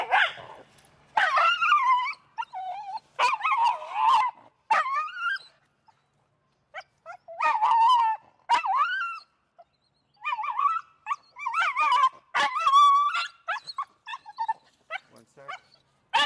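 A reactive dog on a leash barks, yips and whimpers in repeated loud, close bursts separated by short pauses, with no clear speech over the vocalizing.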